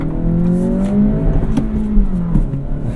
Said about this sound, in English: I love the sound when I hit the rev limiter,